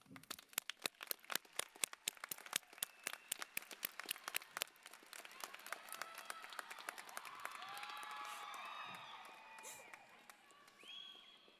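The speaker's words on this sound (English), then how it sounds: "give them a round of applause" Applause for families and friends at a training center graduation ceremony, starting as sharp separate claps close by and swelling into a steady crowd ovation with voices rising toward the end.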